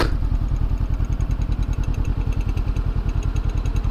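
Motorcycle engine running steadily while riding through city streets, a close, continuous low rumble with a fast regular firing pulse throughout and no talk over it.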